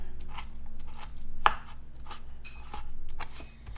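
A kitchen knife chops ingredients for low-fat appetizers on a cutting board, producing scattered soft taps and one sharper, louder cut, heard close up with no talking.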